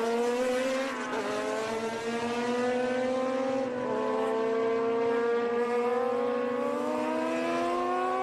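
Single-seater race cars, including Van Diemen machines, roar past on a track at Austin in a vintage racing event, with loud, high engine notes that rise and fall as several cars pass in quick succession.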